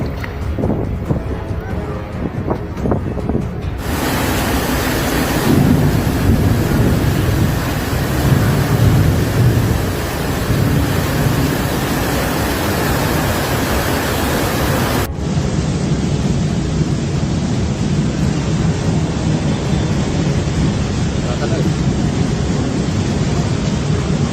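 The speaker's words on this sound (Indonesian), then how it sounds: "Airnya masih kenceng banget." Floodwater of the overflowing Ciliwung river rushing past in a loud, continuous roar close by, holding steady throughout with occasional faint voices beneath it.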